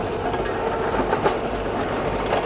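An LS XJ25 compact tractor engine runs steadily nearby with a rapid, even mechanical chatter and low hum, no voices.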